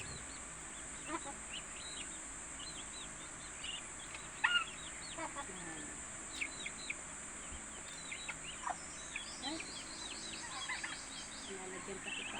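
Chickens cluck and call in scattered bursts at a distance over a steady background hiss, with ducks and turkeys mixed in.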